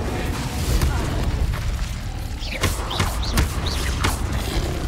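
Incendio fire spell cast in Hogwarts Legacy, heard as short whooshing bursts and pops over a steady game backdrop with ongoing low rumble.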